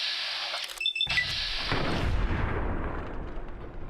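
Gunfire from .44 rounds in Fallout: New Vegas: a sharp shot followed by a heavy booming blast that rolls and decays over a couple of seconds, fairly close.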